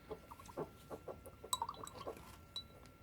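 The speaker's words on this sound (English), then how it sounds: "go ahead and use some water to clean your brush." Paintbrush swished and tapped in a glass water cup while cleaning patina off the bristles, giving faint clinks and soft sloshes in a quiet room, with a brief cluster of brighter glassy taps midway.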